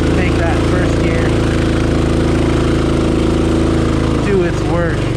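A Rokon motorcycle engine labouring loudly and steadily up a steep hill climb, a close, continuous mid-pitched drone with slight pitch shifts near the end.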